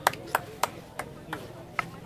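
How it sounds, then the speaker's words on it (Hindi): A handful of people clap in a street gathering in Uttar Pradesh, slow and sparse: a few sharp hand claps at uneven intervals over a steady background hum, no voices over them. "चलिए ताली बजाइए"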